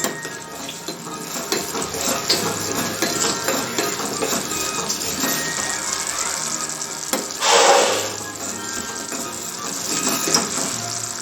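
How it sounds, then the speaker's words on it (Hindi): A sauce thickened with cornflour slurry boils in a pan for a veg lollipop recipe, giving a steady bubbling, sizzling hiss with a few sharp clinks of a utensil against the pan. "उबाल आने लगा है।"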